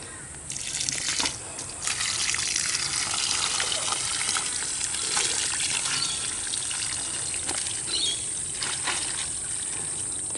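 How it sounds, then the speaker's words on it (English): Tap water runs steadily into a kitchen sink, rinsing out compost scraps of protein powder, bacon and fibrous bean matter, a continuous close gush lasting about ten seconds. "I'll just rinse that out with some water"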